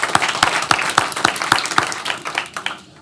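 Hand clapping from an audience at a congressional transportation equity reception, a dense patter of claps with sharper individual strikes, fairly close and steady for a few seconds before tapering off.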